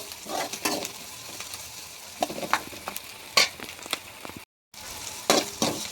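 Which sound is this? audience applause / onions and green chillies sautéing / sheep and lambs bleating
onions and green chillies sautéing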